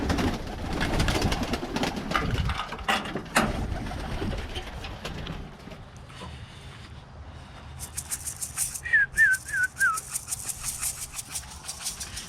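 Birmingham Roller pigeons in a loft, with soft cooing and a few short rising calls near the end, over a background with some handling noise and a low engine hum.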